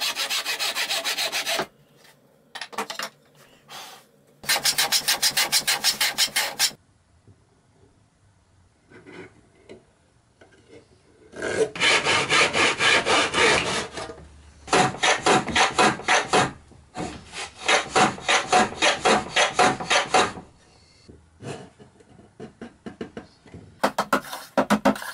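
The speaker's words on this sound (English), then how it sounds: "I need to shoot miters on these and fit them precisely into the box." Hand plane shooting miters on wooden box lining pieces against a shooting board, heard as bursts of harsh rasping strokes in quick runs separated by quiet pauses and light knocks, close and crisp, without speech.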